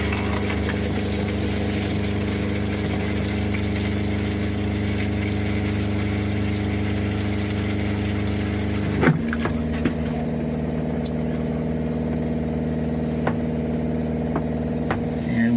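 An RV water pump runs during winterization of an Alto R1713 travel trailer, a steady droning hum with a continuous tone that shifts to a different pitch about two-thirds of the way through.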